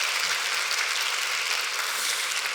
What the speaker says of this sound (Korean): 우리 모두 다 창의적인 분들이 한번 박수 한번 칠까요?